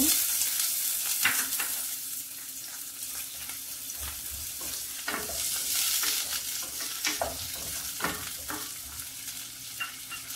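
Chopped onion frying in oil in a pan for chicken mandi: a close, continuous sizzle broken by repeated scraping and clattering stirs at an irregular rhythm, with no talking.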